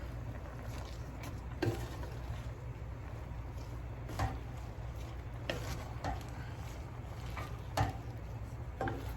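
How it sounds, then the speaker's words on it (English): Food being stirred in a cooking pot, soft repeated scraping strokes at a relaxed pace over a low steady background hum, with no talking. "Let's give things another stir."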